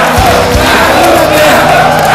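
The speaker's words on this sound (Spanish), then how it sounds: "Carlos Guillermo, un aplauso." A loud studio audience on a Spanish-language TV game show erupts in cheering and shouting with applause, a dense, continuous roar close and full throughout.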